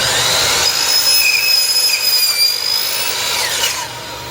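A miter saw fitted with a Diablo Ultra Finish blade cuts through a white PVC railing piece, a loud continuous whining rasp lasting several seconds with steady tonal scream, winding down near the end, no talk.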